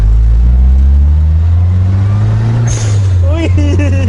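A 1983 Suzuki Jimny with a turbo engine and full modifications rumbles loudly and close, then is revved so the tone climbs near the end, with excited voices over it.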